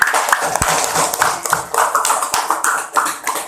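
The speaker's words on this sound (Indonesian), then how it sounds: "Ya, tepuk tangan semua." A classroom of seventh-grade students claps together during a civics lesson, a dense run of overlapping hand claps with a few sharper taps standing out, fairly close and loud throughout.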